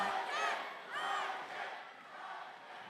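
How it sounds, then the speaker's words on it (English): A fight-event crowd cheers and roars in two swelling waves, loud and reverberant, with the noise easing off toward the end. "You hear the crowd cheer for Riken."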